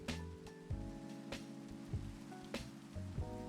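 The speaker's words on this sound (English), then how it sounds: "I wish for it to stop raining." Rain falling in a Minecraft world, a steady soft patter that runs evenly throughout over sustained music-like tones, with a few brief louder bursts standing out.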